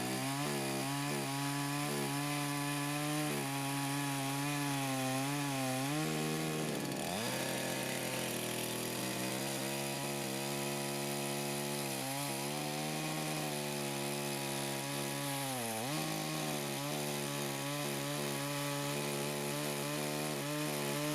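A chainsaw with a chain sharpened by angle grinder cuts hard apple wood near the root, a loud continuous whine that dips in pitch as it bites into the log, steady throughout.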